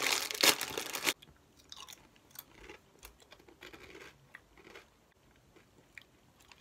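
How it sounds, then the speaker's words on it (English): Italian potato chips flavored with black truffle are crunched loudly in a brief burst at the start. Softer, close chewing follows at an uneven pace, with no talking. "There are these potato chips with black truffle."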